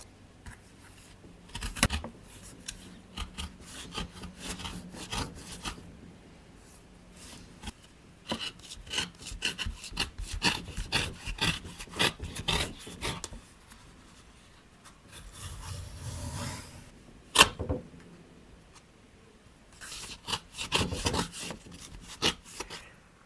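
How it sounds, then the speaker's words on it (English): Paper being slit open with a bone folder while making a Coptic-bound sketchbook: quiet, close scraping and rasping strokes coming in bursts of rapid back-and-forth rubbing with pauses between them, with no talk. "I'm slicing it open with the bone folder because I don't want to have any sharp edges"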